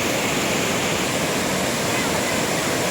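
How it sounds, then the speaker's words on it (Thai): Huai Chan waterfall in Khun Han, Sisaket, flowing strongly, a steady loud broadband roar of rushing water that fills the whole stretch without a break. "น้ำไหลแรงทีเดียวครับ"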